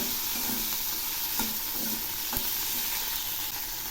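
Chili powder, a little sugar and ginger paste stirred in a hot frying pan, giving a steady close sizzle broken by a few sharp scraping strokes of the spoon.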